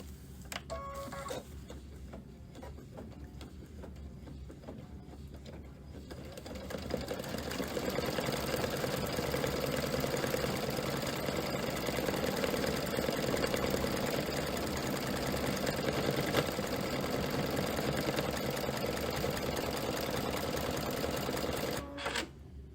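Embroidery machine stitching lettering onto an apron, a steady fast mechanical needle chatter that grows louder and denser partway through and runs on continuously without talk.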